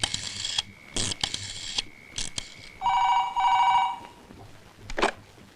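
A telephone rings in a comedy scene, sounding in several sharp bursts of bell-like trilling with short pauses between them. It is fairly close and clear, and there is no talk over the ringing.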